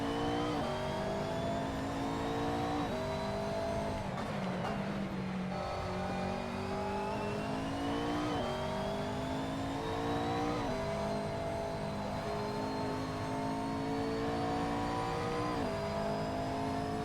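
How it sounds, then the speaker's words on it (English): A V8 race car in a racing video game drones loudly and continuously, its engine pitch stepping down repeatedly through gear changes as engine braking slows the car. No one speaks over the sound. "Trying to use the engine to slow the car down."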